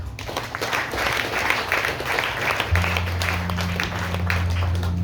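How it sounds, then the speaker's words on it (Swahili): A congregation at a church service claps together in a dense, sustained round of applause. A low steady hum sits beneath it. "Makofi kwa Yesu."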